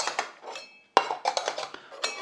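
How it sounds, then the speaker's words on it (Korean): Stacked camping cookware bowls from a Bellac Kopel Combi S9 set being nested together, sharp metallic clinks and clatters in a quick close-up cluster after a short pause, no speech. "밥그릇은 합칠게요."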